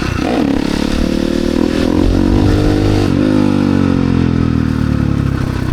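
A supermoto dirt bike in second gear revs hard for a wheelie, its engine loud and close, pitch climbing and wavering with throttle, rough and continuous throughout.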